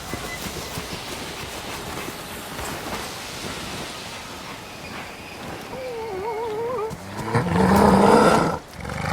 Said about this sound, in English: Sounds like a wolf is nearby.